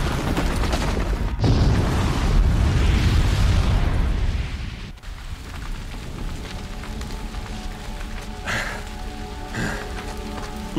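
A bomb rigged with a booby trap blows up downstairs in Horizon Zero Dawn. A loud, rumbling blast with crackling debris fills the first five seconds, then drops to a quieter, settling rumble with scattered later crackles.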